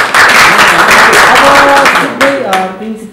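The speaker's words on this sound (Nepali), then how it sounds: "ताली बजाइदिउँ।" Audience clapping in a studio talk-show setting, a loud dense burst of applause that fades as voices begin speaking over it.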